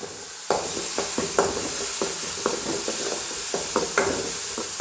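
Grated tapioca and onion sautéing in coconut oil in a pan, a steady close sizzle broken by regular scraping stirs of a spatula, about a dozen strokes in an even rhythm.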